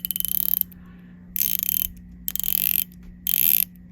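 An Axwell GMT watch bezel being turned, giving four bursts of dense ratcheting clicks with short pauses between, close up against a steady low hum, with no voices.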